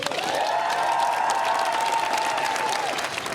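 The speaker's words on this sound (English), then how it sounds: "as Keir Starmer's team applaud him as he leaves Downing Street" Keir Starmer's team applauds outside Downing Street as he leaves office, steady, dense clapping from a close group that holds for a few seconds, with a faint tonal whine running underneath.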